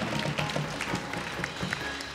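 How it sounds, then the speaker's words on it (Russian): Studio audience applauding during a New Year Russian Lotto televised draw, a steady, moderately loud wash of clapping across the whole moment with no voices on top. "Но мы аплодируем от радости"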